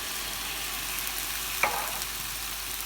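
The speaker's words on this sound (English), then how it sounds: "stir those into the tomato puree, onions and garlic" Beans and chopped tomatoes stirred into tomato puree with onions and garlic in a pan, a steady close frying sizzle throughout, broken once by a brief sharp clink of utensil on metal.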